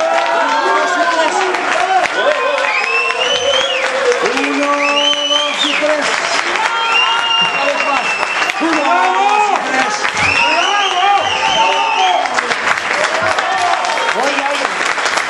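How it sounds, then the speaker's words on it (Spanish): A young swing band from Alicante gets loud, sustained applause and cheering from a close audience, with whistles and shouting voices mixed into the steady clapping for the full length. "Un aplauso para ellos"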